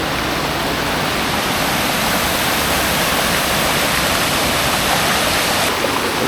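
Copalitilla waterfall in Huatulco roars as heavy water cascades down, a dense, constant rushing close by with no break and no voices.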